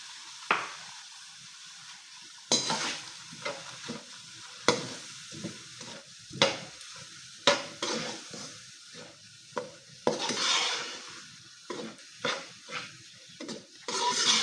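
Semolina fries in oil in a pan for halwa, with a spoon stirring and scraping in repeated close strokes over a soft continuous sizzle, fairly quiet and without talk.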